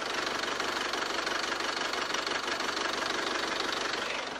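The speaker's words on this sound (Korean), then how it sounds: "바로 엔진 소리 한번 들려드릴게요." Engine of a 2020 SsangYong G4 Rexton SUV idling with the hood open, a steady close rumble with a faint even ticking beat, heard alone without talk.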